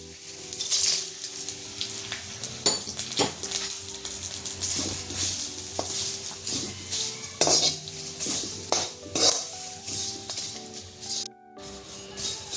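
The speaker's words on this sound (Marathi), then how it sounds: "ह्या तेलामध्ये आता आपण भाजून घ्यायचंय दगडफूल." Dagadphool (black stone flower) roasting in oil in a wok, metal spatula clanking and scraping against the pan in irregular bursts over a light sizzle, close and fairly loud.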